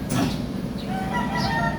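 Chickens cluck in a steady, close-up jumble, their throaty calls running together over a constant background hum.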